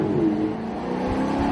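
A Maserati GranTurismo MC Sportline's 4.7-litre engine hums at a steady drone, a smooth, moderately loud running note with no sharp revs, heard from inside or near the car.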